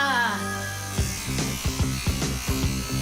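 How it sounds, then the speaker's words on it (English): An electric toothbrush in a children's cartoon gives a steady electric buzz, followed by music with punchy rhythmic beats. "That's your father's toothbrush."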